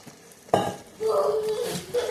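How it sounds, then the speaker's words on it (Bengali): Dry chilies, cardamom, whole cumin and coriander being sautéed in a pan make a sudden clink of utensil on metal, then a brief frying sizzle and scraping stir, close and short, with faint voice underneath. "শুকনো লঙ্কা আছে, এলাচি আছে, সব দিয়ে এখন এগুলো কষিয়ে নেব"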